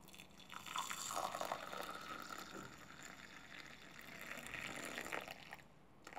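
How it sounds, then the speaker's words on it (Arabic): Very hot water poured over fennel seeds to make an infusion, giving a continuous splashing, trickling flow that swells and eases over several seconds with a faint ringing tone, with no voices. "نفس الشيء يفول الماء الساخن جداً"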